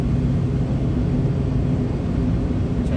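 A loud, steady low rumble of a yellow truck's engine, continuous and close, with broadband road noise throughout.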